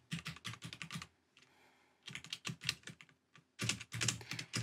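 Clattering keystrokes on a computer keyboard at a desk, quick bursts of typing separated by short pauses, close and moderately loud with no talking.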